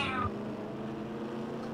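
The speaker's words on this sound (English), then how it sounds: "Whose cat is that?" A cat meows once, briefly, in the background near the start, over a steady engine-like drone during an online NR2003 stock-car race at Pocono.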